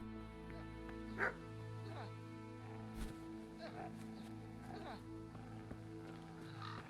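A hurt dog in Kingdom Come: Deliverance gives a series of barks and whimpering yelps, irregularly spaced and fairly close, above a low, continuous ambient background with no one talking.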